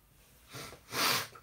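Two breathy intakes close to the microphone, a short sniff followed by a louder, longer one, with no talking.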